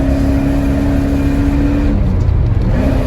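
A 1982 Porsche 928 pulls hard through its gears, its loud, steady engine drone climbing and then dropping briefly at a shift before building again.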